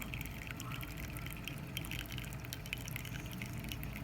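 Espresso drips from a La Pavoni lever espresso machine after a pressure fault was serviced, a faint, close, continuous trickle of liquid with no voices.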